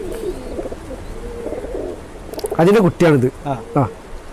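A set pigeon, the offspring of an eleven-year-old surma pigeon, gives several close, loud rhythmic coos in short bursts after a quieter opening of softer murmuring.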